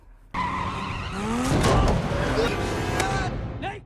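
A car rolling away and crashing in a film scene, with a sudden onset of tire skidding and squealing, then heavy impact noise and clattering that stays loud before cutting off abruptly.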